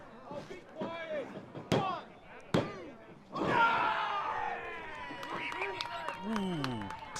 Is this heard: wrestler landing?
yes